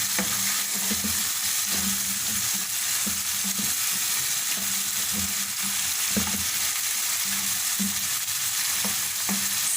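Chicken fries in oil in a pot for white yakhni pulao, a loud, constant sizzle with occasional stirring clatters and scrapes, close up and steady throughout, no voices.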